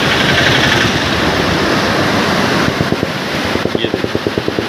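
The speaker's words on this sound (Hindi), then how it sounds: "ये पानी का शोर हो रहा है, देखो कितना" Fast-flowing Ganga water at Roorkee roars in a steady, loud broadband rush; toward the end, a regular thudding pulse joins in on top of the churning flow.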